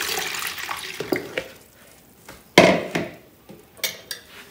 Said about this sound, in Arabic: فاللي راح أبدي أضيف المي أول شي